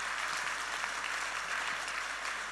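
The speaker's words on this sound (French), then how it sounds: "je crois qu'on peut les applaudir parce que c'est assez extraordinaire" Steady applause from a summit keynote audience, a dense wash of many hands clapping at moderate loudness, heard a little distant and continuing throughout.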